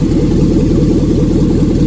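L33 5.3 LS V8 swapped into a G20 van idling close up, a loud, steady low-pitched rumble with an even pulsing beat and no talk.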